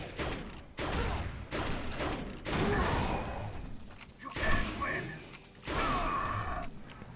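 Gunfire from the video game Defiance comes in repeated rapid bursts separated by short pauses, loud and punchy, with a voice speaking between the volleys.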